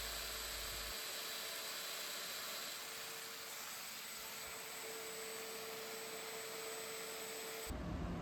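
Domino joiner cutting mortises in 5/8 inch wood, a loud continuous motor and dust-extraction roar holding steady throughout, ending in a brief change near the end.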